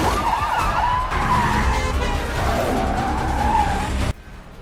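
Tires squeal and skid during a car chase in a Jason Bourne film, with police cars in pursuit. The screeching is loud and sustained over engine roar, with a siren-like wail beneath it, then it cuts off sharply near the end.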